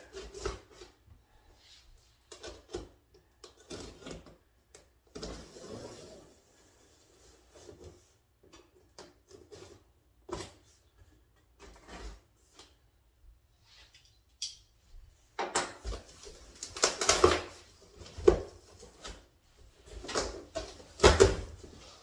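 Stiff stapled cardboard box holding a 12,000 BTU mini split air conditioner being cut and pried open, with scattered scraping, rubbing and tearing noises that grow louder and denser toward the end, no talking.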